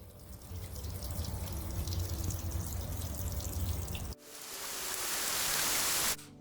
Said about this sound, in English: It's pouring rain again here in the Pacific Northwest